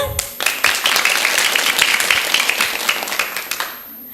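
Children at an elementary school clap and applaud after a song, a lively burst of many small hands that starts abruptly, holds steady, then trails off near the end.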